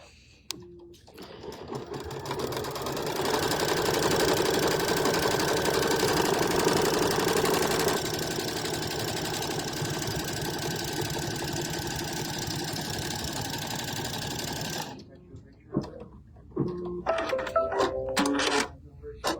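A sewing machine tacks applique fabric down onto a burlap tea towel, running in one steady continuous burst for about fourteen seconds before stopping, followed by light handling clatter.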